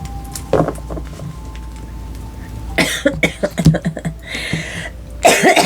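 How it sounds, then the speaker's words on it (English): A person coughs in several harsh, rapid bursts, clearing their throat between fits, close and loud, after a stretch of quiet background. "Now I'm coughing my lungs out."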